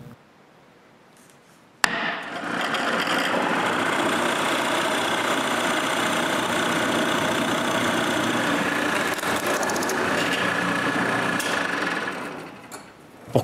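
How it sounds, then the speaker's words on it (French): A power drill bores holes into a piece of wood for the handles of wooden serving trays, giving a steady, loud motor whine that runs unbroken for about eleven seconds before stopping. "Puis je les perce."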